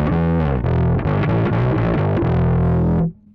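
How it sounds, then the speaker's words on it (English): A Fender Precision-style bass guitar is played through an Aguilar Tone Hammer preamp with its distortion engaged, giving a thick, gritty run of loud notes that ends abruptly after about three seconds. "and I press the distortion now."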